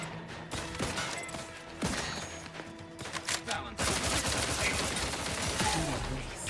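Explosions and rapid gunfire from The Outer Worlds 2 combat, loud and dense, with bursts of shots and booming blasts building into a sustained roaring barrage toward the end.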